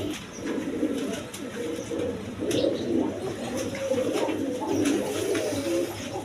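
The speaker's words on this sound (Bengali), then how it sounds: "এইখানে এক পেয়ার গররা কবুতর আছে দেখেন" A pair of Garra pigeons coo in soft, low, repeated murmurs, a steady burbling chorus close by with faint background noise.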